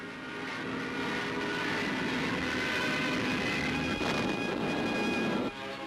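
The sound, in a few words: Junkers Ju-88 bomber aircraft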